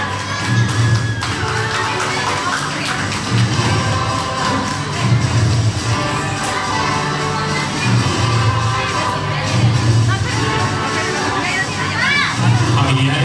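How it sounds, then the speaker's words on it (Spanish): Audience at a children's talent show gives a round of applause, crowd noise and children's shouts blending with claps throughout, loud and steady with a few thumps. "¿Hay palmas para André?"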